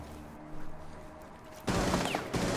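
Gunfire in Rainbow Six Siege, a quiet stretch with faint shots, then a loud close burst of rapid shots that cuts off and resumes briefly.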